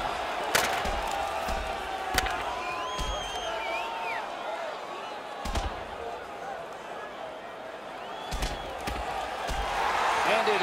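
Punches land in a hockey fight in NHL 16, New Jersey Devils against Washington Capitals: several sharp, separate thuds at uneven intervals over a constant roar of arena crowd noise.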